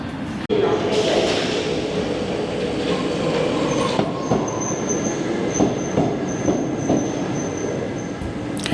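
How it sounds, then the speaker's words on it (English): A Paris metro train carriage rolls along with loud steady rumbling, clattering wheels and a sustained high squeal, while someone talks over the noise. "So we're just heading through with a quick video transition of me getting onto the metro."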